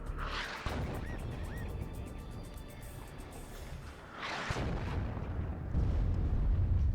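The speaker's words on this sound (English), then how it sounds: "I decided to open fire my artillery" Artillery fire in the WARNO war game: dense, rumbling barrages of booming shots, continuous and heavy with a few louder swells and a thickening roar near the end, no speech over it.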